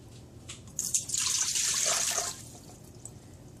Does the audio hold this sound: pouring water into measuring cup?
yes